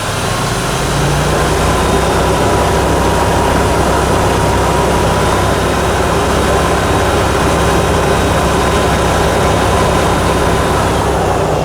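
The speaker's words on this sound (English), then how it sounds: "Let's increase our RPM." A Jeep engine with an EGR fault code P1404 runs with its RPM raised, giving a loud, steady, unbroken drone with a slight upward shift in pitch near the start and no speech.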